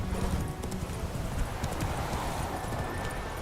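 Roach, a horse in The Witcher 3, gallops with quick, rhythmic hoofbeats pounding close and steady throughout, no voices over them.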